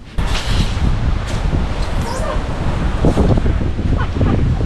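Wind blowing outdoors buffets the microphone in rough, rumbling gusts that carry on throughout at close, loud level, with faint rustling and a brief voice under the noise.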